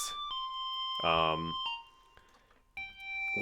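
Bright, shrill Retro Machines synth preset with steady high harmonics, sustained notes separated by short gaps, with a voice speaking briefly over them.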